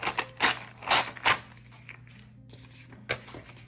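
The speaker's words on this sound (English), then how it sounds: "I'm just gonna rip it" Paper is torn by hand while making a floral journal card, giving several short, crisp ripping bursts close up, with brief pauses between tears.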